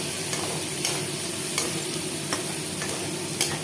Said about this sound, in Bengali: এইবার আমি এগুলোকে লাল লাল করে একদম ভেজে নেব।